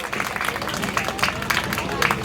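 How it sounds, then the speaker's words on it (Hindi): Audience applause at a school stage performance of a Sanskrit play, a dense, steady wash of clapping from a crowd lasting the whole stretch, fairly loud and close with no break. "तो उनके लिए हम जोरदार तालियां बजाते हैं"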